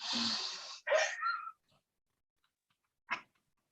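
A group breathes in together during a breathing exercise at a talk, a close, airy inhalation followed by a second breathy rush, then quiet and a short sharp sound.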